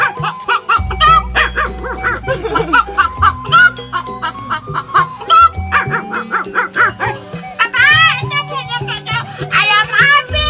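A man vocally imitates a chicken being chased by a barking dog, alternating loud close barks, yips and whimpers with squawking clucks in quick, jumbled bursts, all mouth-made with no real animals.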